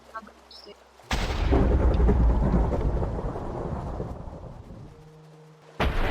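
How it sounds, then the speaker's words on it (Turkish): Lightning strikes in the Minecraft video game, a sudden loud crack opening into a heavy rolling rumble of thunder that fades over several seconds, then another sharp burst at the end. "Hasardan bana yıldırım düştü ve üçüncü şahıs kamerasından gördüm düştüğünü"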